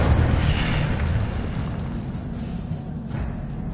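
The Incendio fire spell is cast in Hogwarts Legacy, a loud roaring burst of flame with a heavy rumbling low end that whooshes steadily and slowly thins out over a few seconds.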